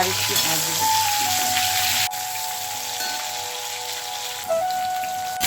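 Cauliflower pieces dropping into hot oil for a Bengali aloo phulkopi katla fish curry, giving a steady loud broadband sizzle with a brief dip midway, faint low hum underneath.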